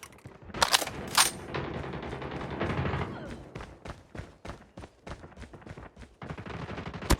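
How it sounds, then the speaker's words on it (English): A sentry gun firing in a Call of Duty military video game, sharp bursts of rapid gunshots repeating in quick rhythmic volleys, fairly close, alone without talk. "Target's in sight. Sentry gun deployed."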